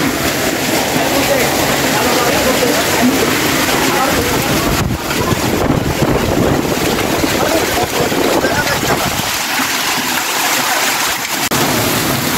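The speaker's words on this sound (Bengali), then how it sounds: "সেই লেভেলের ঝড় আর বৃষ্টি," Strong wind roars steadily with heavy rain hissing throughout during a hailstorm in Natore, Bangladesh, a dense, loud storm noise that barely lets up.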